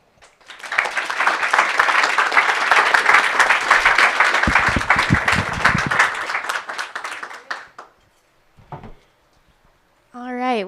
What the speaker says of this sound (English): one more round of applause for all of our panelists